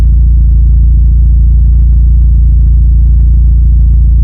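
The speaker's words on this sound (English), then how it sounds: "The air pump just turned off and it idled down." A 1994 OBS truck with an LS engine swap idles with a misfire, a steady, loud, close low rumble holding without a break.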